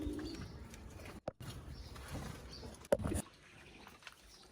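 A native-breed pigeon brooding on its egg in a farm loft gives low, intermittent coos amid faint rustling and a few sharp knocks, fairly quiet and close.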